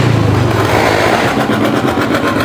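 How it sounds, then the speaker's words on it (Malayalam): A motorcycle engine starts and settles into a loud, close idle at a fest ground, buzzing steadily throughout with a rougher stretch toward the end. No one talks. "അപ്പോൾ അതേ ബൈക്ക് സ്റ്റാർട്ട് ചെയ്തു"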